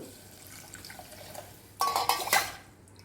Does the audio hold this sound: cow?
no